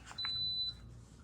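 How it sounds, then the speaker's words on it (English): One short, high-pitched electronic beep sounds clearly against a quiet background. "Sorry about that beeping noise."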